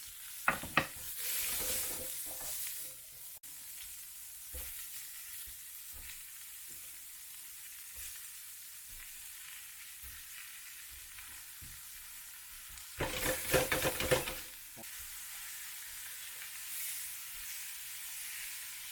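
Garlic and parsley fry in a pan alongside sliced beef, a steady sizzle broken by clattering stirs near the start and a louder burst of stirring and spattering later on.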